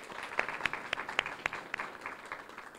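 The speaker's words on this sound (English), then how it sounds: "let's give them a round of applause." Audience applause fills a dental hygiene pinning ceremony at Gulf Coast State College, a steady patter of many hands with sharper individual claps standing out, moderately distant and continuous throughout.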